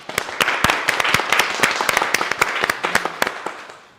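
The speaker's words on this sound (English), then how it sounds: "let's give a round of applause for everyone following us from home or work" Live summit audience gives a round of applause, dense sharp claps throughout, loud and close, with a few stronger individual claps standing out.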